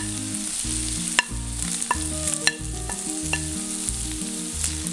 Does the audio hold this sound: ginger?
yes